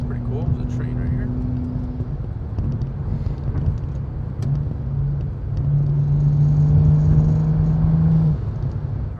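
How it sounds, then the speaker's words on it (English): A warmed-up car engine idles and rumbles steadily at close range, its low drone rising slightly in the second half, with a person talking briefly over it. "All right, car's warmed up."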